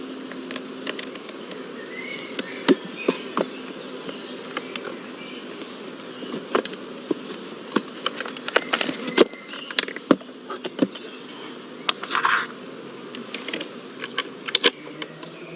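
Honeybees flying at the small entrance-disc hole of queen-right nucleus hives, heard as a faint, continuous buzz broken by frequent quick ticks and clicks.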